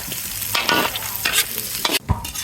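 Garlic fries in hot oil for tinola at a street-side cooking spot, a loud close crackling sizzle broken by several bursts of stirring and scraping.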